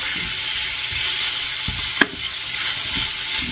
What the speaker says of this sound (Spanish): añado la cebolla y la vamos a pochar a fuego lento